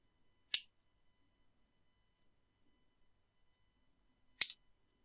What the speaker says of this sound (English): then trim just below the top of the front weave